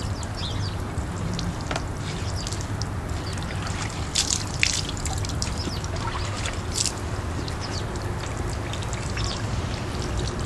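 Water pours and trickles steadily while a pet is bathed indoors, a continuous close splashing flow with small bursts, no clear talk over it.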